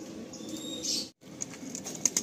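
A pair of Madrasi Andhra pigeons released from the hand, wings flapping in quick bursts up close, with a brief pause and faint chirps and coos afterward.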